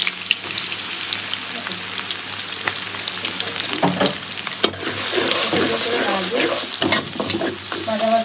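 Onions frying in hot oil in a wok, with a steady sizzle and bursts of stirring and scraping throughout, fairly loud and close.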